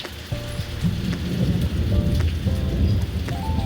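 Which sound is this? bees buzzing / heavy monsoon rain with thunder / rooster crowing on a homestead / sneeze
heavy monsoon rain with thunder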